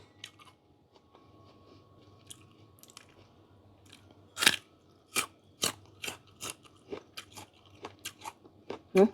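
Crisp crunching bites into fresh, crunchy dates, a series of sharp snaps close to the mic at irregular intervals, with quiet moments between them.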